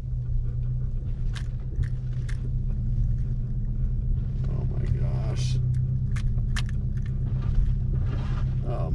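A car grinds along a snowy wilderness road in blizzard conditions on 2N10 near Big Bear, California. Heavy low engine and road rumble runs throughout, broken by repeated short scraping and crunching bursts against the body.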